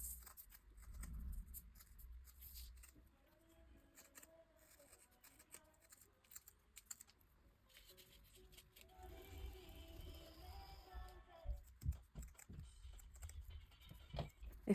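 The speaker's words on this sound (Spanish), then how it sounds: "Ya con la figura marcada, cortamos con la tijera." Scissors cut white polystyrene foam (telgopor) up close: quiet, irregular snips and crunching scrapes, faint at first, then sharper and louder clusters of cuts toward the end.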